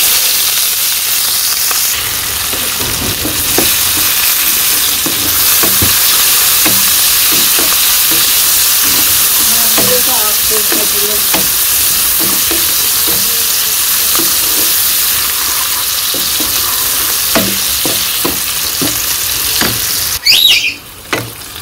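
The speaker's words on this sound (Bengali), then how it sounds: "এই যে পেঁয়াজ তো ভাজা দিয়ে নিচ্ছি" Chopped onion and cumin frying in oil in a village kitchen wok, giving a steady, loud, dense sizzle with scattered scrapes and knocks of stirring, alone with no voices.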